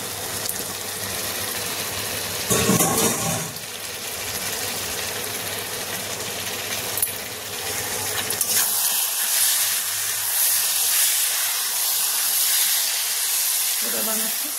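Washed chicken pieces dropped into fried spiced masala in a pan for Kasturi chicken, giving a loud, steady hiss and sizzle with a sharper burst near the start, then a continuous frying crackle to the end.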